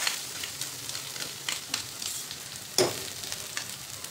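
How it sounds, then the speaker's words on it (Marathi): Soft sizzling in a hot kadhai as cooked chana dal filling for puran poli is sautéed, with scraping stirs and occasional sharp clicks of a utensil, close and moderately quiet, no talking. "तर आपल्याला आता पुरण परतून घ्यायचे"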